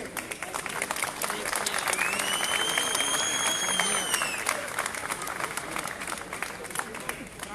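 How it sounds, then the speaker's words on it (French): Steady crowd applause at an outdoor rally in Reims supporting the Kurds, broad and sustained across the whole stretch, with a whistle or shout rising briefly in the middle and voices mixed into the clapping. "Avec vos applaudissements."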